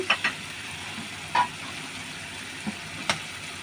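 Tomato and spice masala sizzles softly in a pan with a steady frying hiss, punctuated by a few sharp clinks and scrapes of a spoon stirring, close and moderately quiet.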